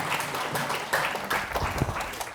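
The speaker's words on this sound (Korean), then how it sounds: "큰 박수 부탁드립니다." Applause from an audience at a hospital health lecture as the respiratory specialist is welcomed to the stage, a steady patter of clapping lasting a couple of seconds at moderate volume.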